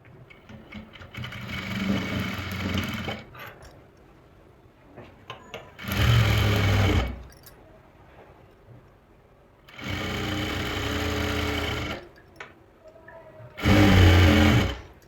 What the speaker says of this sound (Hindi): अब इस पे भी मैं मोरी की तरफ से ही सिलाई लगाऊंगी।